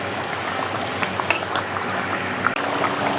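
Garam masala paste being stirred into a jackfruit curry with fish head, a steady loud wet bubbling and scraping in the pot with a few clinks of a utensil, no voices.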